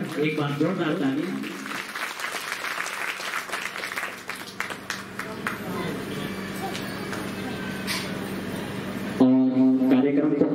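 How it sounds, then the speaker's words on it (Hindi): Applause from a crowd at a Guru Purnima festival at Hariom Ashram, Kadwapani, fairly faint and mixed with a voice and tonal background sounds; a person speaks at the start and again near the end. "बहुत सुंदर, एक बार जोरदार तालियां।"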